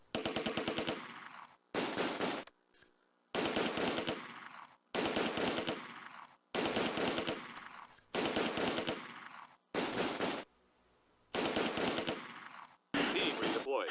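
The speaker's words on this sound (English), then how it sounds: "My team in the east starts receiving fire from enemy soldiers along the main street" Gunfire in the WWII strategy game Close Combat: A Bridge Too Far, set in a town during Operation Market Garden: loud bursts of machine-gun fire roughly every second or two, each lasting about a second, separated by short quiet gaps.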